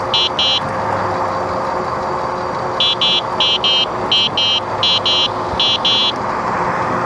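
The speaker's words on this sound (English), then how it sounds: "A lot of traffic." Mid-afternoon road traffic hums loudly and steadily, with a repeated high beeping chirp sounding in short bursts over the roar.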